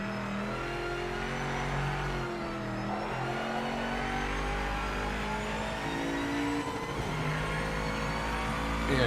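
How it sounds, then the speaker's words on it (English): Aston Martin V8 engine in the Project Motor Racing racing game, a loud, steady close-up engine drone with revs rising and falling continuously, with no talk. "audio-wise, this doesn't sound bad, the Aston. Sounds, you know, like a V8"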